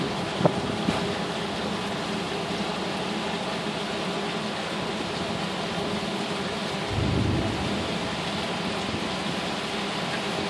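Outdoors during a summer storm, steady rain pours with wind rushing throughout, while a low rumble of thunder swells briefly partway through.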